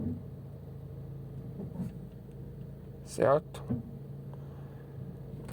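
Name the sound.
car with automatic transmission idling in drive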